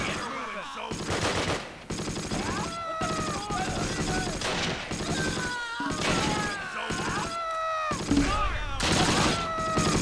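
Artillery barrage in the Close Combat war game set in the snowy Ardennes, with repeated broadband bursts of shelling and gunfire in waves throughout, while someone talks and exclaims over the din.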